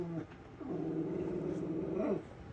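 An indoor dog whimpers and growls in long, wavering tones, a near, fairly quiet sequence that rises and bends at the end, with no voice over it.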